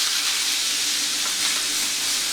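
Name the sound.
pot roast meat flipped and searing in hot pan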